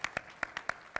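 Sparse claps from an audience at an interfaith lunch-and-learn gathering, a handful of distinct hand claps spaced irregularly across about a second, fairly faint and fading.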